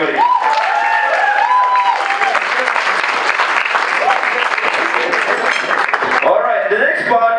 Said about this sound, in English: big round of applause for Uday Dukal, everybody